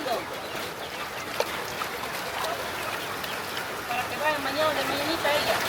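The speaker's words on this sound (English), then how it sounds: "It's starting to rain." Rain patters steadily on a thatched roof in an indigenous tribal dwelling, a soft continuous wash with people talking over it.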